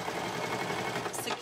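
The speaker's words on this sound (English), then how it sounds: "after I've sewed the side seam with my zigzag over here on my sewing machine" A home sewing machine runs steadily, stitching a zigzag side seam on a garment for a boy, its dense whirring motor and needle chatter close and continuous for the whole stretch.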